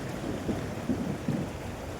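Heavy rain pours steadily during a violent thunderstorm, with low rumbles of thunder swelling a few times beneath the constant downpour; no voices are heard.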